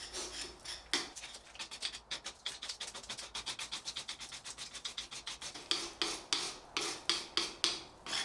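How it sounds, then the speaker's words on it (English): Loose, damp old lime plaster is scraped off a wall in rapid back-and-forth strokes, a rhythmic series of close, gritty rasps that grow stronger toward the end, no speech. "started scraping off some of the loose and damp old lime plaster"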